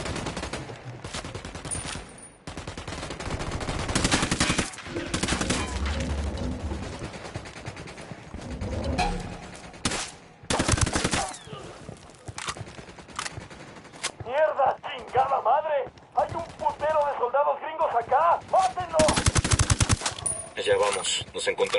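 Repeated bursts of automatic gunfire and single shots from a squad firing in Ghost Recon Wildlands, loud and close, in irregular volleys across the whole stretch, with voices calling out between the bursts.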